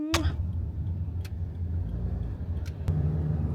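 A car driving through congested city traffic in Kampala, a constant low engine drone with short sharp clicks or knocks breaking through and a slight rise in rumble near the end.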